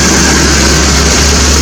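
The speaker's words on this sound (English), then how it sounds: "I'll just turn the engine off a minute." A 1980 Triumph TR7 engine with a water pump fault idles with a steady, loud, low rumble that holds constant throughout.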